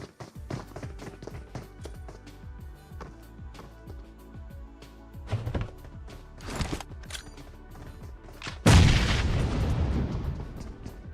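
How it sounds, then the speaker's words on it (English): A grenade detonates in a competitive online shooter match, a sudden loud deep blast late in the clip that follows a stretch of rapid gunfire taps and footsteps, with the boom's rumble trailing off. "Nice nade from Frankie."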